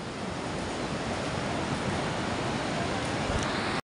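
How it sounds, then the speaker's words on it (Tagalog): Strong river current rushes past a fishing net in a loud, steady broadband roar of churning water with wind buffeting the microphone, cutting off abruptly at the end. "Ayan na, lakas ng agos."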